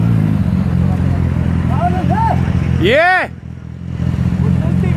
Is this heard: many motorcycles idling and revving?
yes